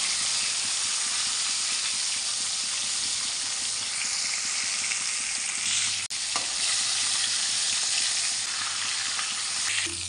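Fish sizzles in hot oil with turmeric in an Assamese kitchen, giving a steady, loud, hissing fry throughout with a brief dip near the middle.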